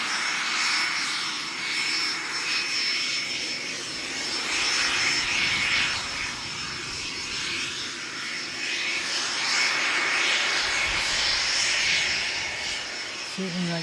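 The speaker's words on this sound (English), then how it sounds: "Cessna Citation Mustang." A Cessna Citation Mustang jet roars on the airfield in strong winds, a loud sustained engine rumble and whine that swells and fades over about fourteen seconds, with wind noise throughout.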